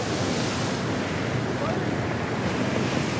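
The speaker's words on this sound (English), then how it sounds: "Will Min be able to withstand today's winds and waves?" Strong wind and surf along the Egyptian Red Sea coast at Mersa Gawasis, a steady, dense roar of waves and gusts buffeting the microphone, continuous and loud for the whole stretch with no voices.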